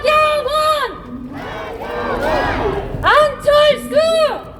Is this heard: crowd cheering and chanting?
yes